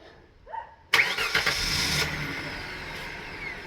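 A Hyundai Sonata engine cranks briefly, then catches with a sudden loud roar and settles into a steady running hum nearby.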